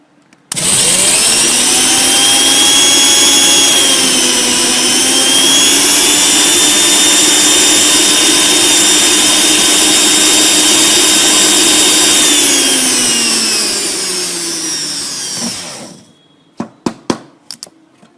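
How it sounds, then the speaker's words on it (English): A dry grinder jar whirs loudly and steadily as it pulverizes cashews into fine powder, a continuous high motor whine running for about fifteen seconds before stopping, followed by a few sharp knocks of the jar. "it has to be a dry grinder jar. First we're going to grind it into a fine powder."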